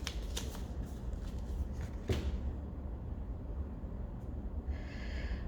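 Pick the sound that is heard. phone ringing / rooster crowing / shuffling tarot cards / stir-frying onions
shuffling tarot cards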